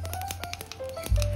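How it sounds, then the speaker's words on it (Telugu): Cumin seeds crackling while dry-roasting in a pan, a quick patter of small sharp pops and taps, fairly faint and close, followed by a low bump at the end. "జీలకర్ర చిటపట సౌండ్ వస్తుంది చూసారా ఆ సౌండ్ కి వేగుతుందండి"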